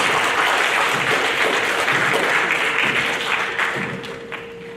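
Seventh-grade awards program audience applauds academic excellence coordinators in art, a full steady wash of clapping from a crowd that holds strong, then fades toward the end, with a faint sustained tone beneath.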